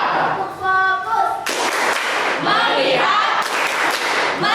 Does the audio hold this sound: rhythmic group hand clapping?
yes